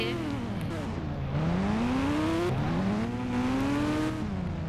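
Simulated car engine from the Indian Bike Driving 3D mobile game, revving loudly and steadily with two long rising pitch sweeps as the car accelerates, with no talk over it.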